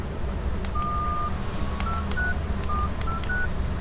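Keypad tones from pressing number buttons on a Nokia N85 phone, a series of short, clean electronic beeps of differing pitch, close and distinct, with faint clicks of the keys between them.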